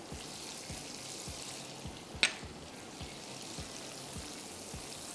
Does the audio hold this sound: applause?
no